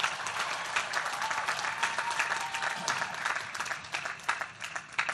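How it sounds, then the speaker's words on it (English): A large commencement crowd at Howard University claps in sustained, dense applause for the graduating class, steady and full throughout with no speech over it. "Let's give them a big round of applause as well."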